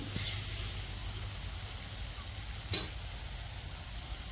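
Tomato egg masala curry sizzles and simmers steadily in a pan, a constant close hiss of frying with a brief stir or clink partway through.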